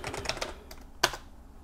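Fingers tap out a short run of keystrokes on a computer keyboard to log in, a handful of quick clicks followed by one sharper key press, close and clear.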